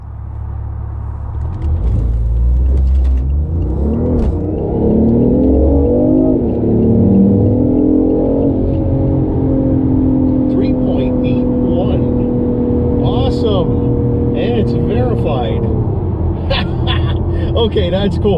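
A BMW i8 on race fuel revs and climbs through the gears, accelerating hard with a steady rising drone, deep rumble underneath throughout.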